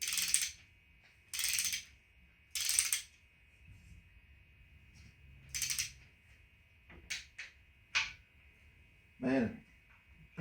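Torque wrench clicking while bolts are tightened during shop work on an Equinox: quiet, scattered clicks and short metallic bursts over faint background noise, some spaced a second or two apart.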